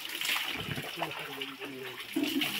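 Cold water pours from a filled bucket for bathing in a Pahadi village in Uttarakhand, a steady splashing gush running throughout, with voices speaking over it.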